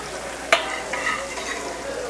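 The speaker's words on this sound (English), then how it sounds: "So I'm just sauteing the garlic a little bit first, just to get the raw flavor out of the garlic." Chopped garlic sautéing in a pan for beef tacos: a soft, steady sizzle and hiss with a single sharp clink of a utensil near the start, faint and close, with no talking.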